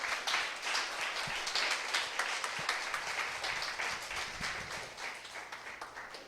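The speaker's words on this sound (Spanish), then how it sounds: "Denle un aplauso en esta noche." A church congregation applauds during a Spanish-language sermon, a dense, steady wash of many hands clapping for several seconds with no voices over it.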